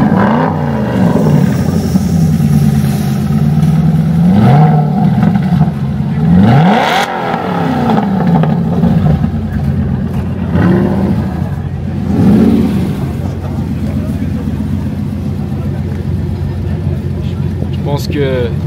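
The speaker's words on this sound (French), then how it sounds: "Est-ce que tu peux nous montrer la sonorité du moteur ou... Ouais, on peut la démarrer." Aston Martin supercar engine starting and revving in Megève, a starter catch followed by several sharp rising revs and a steady idle, loud and close, with French talk over parts of it.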